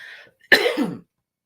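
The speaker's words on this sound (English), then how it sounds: "And I had to start coughing when I get on live." A single sharp, close cough bursts out after a short bit of faint breath, then silence follows.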